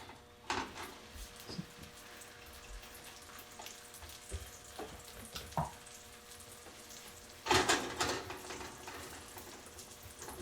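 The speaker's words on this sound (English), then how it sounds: "we're going to throw it right back in the pan. Get a nice little sear on each side." Shrimp for chipotle tacos searing in hot oil in a pan, a soft steady sizzle broken by a few louder crackling bursts as pieces are added and moved, close with no talking.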